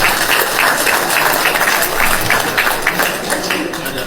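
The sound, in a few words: audience applause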